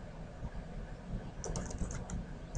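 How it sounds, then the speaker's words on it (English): Typing on a computer keyboard, a run of quick, fairly faint key clicks in the second half over a steady low room hum, with no voices. "And this is where you can type notes."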